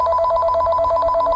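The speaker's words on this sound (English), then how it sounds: "The phone rang." A telephone rings steadily with a bright, sustained electronic bell tone, loud and close, repeating evenly through the whole moment with no voices.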